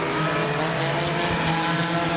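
A race car, the number 24, slides into the infield with loud, steady engine roar and tire noise throughout, close and continuous with no talk.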